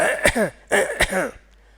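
A voice imitates coughing and throat clearing, two short rough bursts in quick succession, close and clear against silence.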